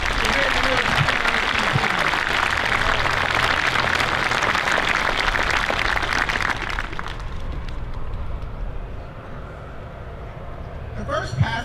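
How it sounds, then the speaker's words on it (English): A round of applause rings out for the youngest Marine at a Marine Corps base cake cutting ceremony, dense and sustained clapping for about seven seconds before fading into quieter room murmur. "Let's give her a round of applause."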